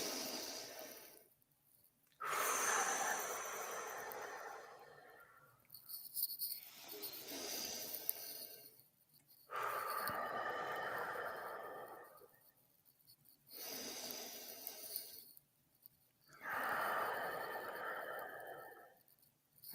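A group takes three deep breaths together, each a long, airy inhale and exhale separated by short pauses, fairly close and soft, with no talking.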